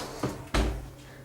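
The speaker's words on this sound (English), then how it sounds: "Get the baking tray out of the oven." A baking tray is pulled out of a hot kitchen oven, giving two distinct clunks of oven door and metal tray, close by and fairly loud with a brief hum between them and no talking.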